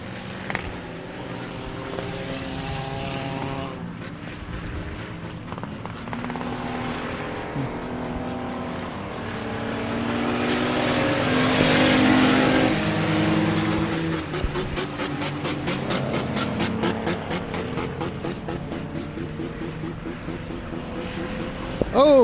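Enduro race cars roar around the Merrittville track, a dense, continuous engine drone that swells as the pack passes close, with faint commentary beneath.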